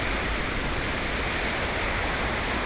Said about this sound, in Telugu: సూపర్ ఉంది కదా వాటర్ ఫాల్.